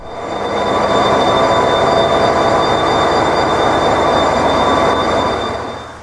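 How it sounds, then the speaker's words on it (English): A steam train rumbles past nearby in Ireland, its noise swelling to a loud steady roar with high metallic ringing tones, then easing slightly at the end. "our next steam train was ready and waiting"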